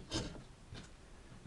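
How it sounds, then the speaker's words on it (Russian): A freshly sharpened and polished wood carving chisel pares a small pine block, giving two or three brief, faint scraping cuts spaced apart, each a soft dry rasp close by with quiet pauses between. "сейчас попробуем порезать. Есть у нас сосновый брусочек"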